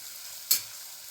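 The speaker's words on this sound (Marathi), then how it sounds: "हे सर्व मसाले व्यवस्थित परतून घ्यायचे" Spices such as turmeric and coriander powder sautéing in a pan, a faint steady sizzle with one brief scrape of a spoon, heard alone without talk.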